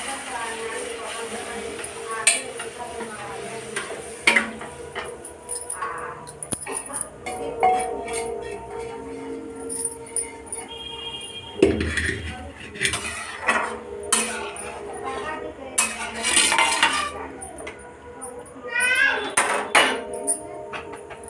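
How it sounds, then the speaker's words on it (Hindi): Boiled dal tipped into a hot pan of fried tadka, with metal clanks of utensils against the pan and bursts of sizzling, fairly close and loud, under background chatter. "अब इसमें हम दाल को डालेंगे।"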